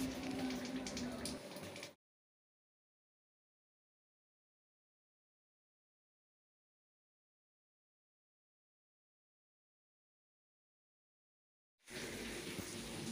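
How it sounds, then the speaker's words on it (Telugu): Rain falling outside, heard as a dense, steady hiss in two short bursts at the start and end, with silence in between. "ఇప్పుడు నాకు ఆల్రెడీ వర్షం పడుతుంది"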